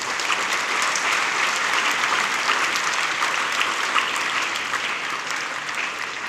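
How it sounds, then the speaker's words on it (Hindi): Loud, sustained audience applause at a school event, a thick continuous roar of clapping from a large crowd lasting throughout, with no speech over it. "जोरदार तालियां अमिताभ बच्चन के लिए।"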